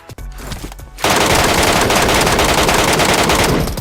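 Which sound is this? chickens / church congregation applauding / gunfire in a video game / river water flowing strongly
gunfire in a video game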